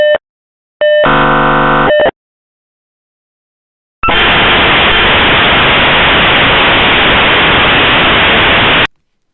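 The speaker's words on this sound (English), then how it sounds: "this is the sound made by a V34 modem that was the standard dial-up" A V34 dial-up modem handshake: a brief tone, a buzzing tonal burst and then a long loud hiss of static noise before stopping abruptly, with no voices.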